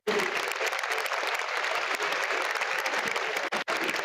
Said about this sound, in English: A big round of applause to Dr. Srijan